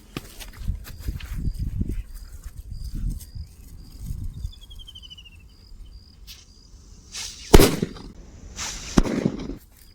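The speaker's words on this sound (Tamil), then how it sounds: "இந்த லட்சுமி வெடி வைக்கலாம்" A Lakshmi vedi firecracker from Sivakasi goes off outdoors with one sharp, fairly modest bang and a second smaller crack soon after, following rustling and footsteps amid faint chirping insects.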